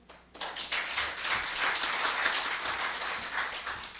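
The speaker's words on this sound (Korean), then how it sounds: "큰 환영의 박수 부탁드립니다." Audience applause at a philosophy lecture forum swells up after a quiet start and holds steady, a dense wash of many hands clapping at moderate volume.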